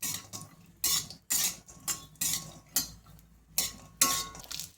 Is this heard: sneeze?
no